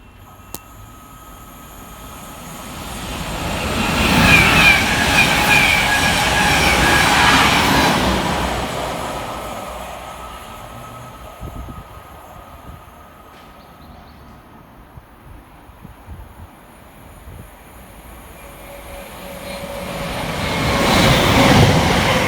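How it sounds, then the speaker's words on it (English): Two Thameslink Class 700 electric trains pass each other at Hendon, swelling to a rumbling, whining roar, fading, then another rising at the end; no speech. "We'll get dual passes here in the form of 9 Romeo 19 and 9 Romeo 23 for Commuter Thameslink."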